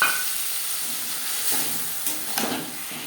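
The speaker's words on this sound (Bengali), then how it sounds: "জিরে কাঁচা লঙ্কা ভেজে নেওয়ার পর দিয়ে দেব ফুলকপির পাতা, যেটা আমি বেটে রেখেছিলাম।" Ground cauliflower leaves frying in a pan with whole cumin and green chili, a steady soft sizzle and hiss with a few brief stirring scrapes, close and alone.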